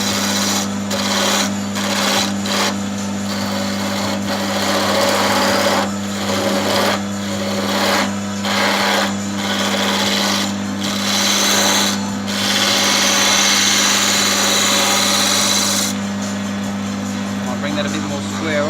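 A wood lathe spins a wooden ball blank while a roughing bowl gouge cuts it, giving a steady motor hum under repeated scraping bursts that come and go in a loose rhythm. A voice talks over the turning.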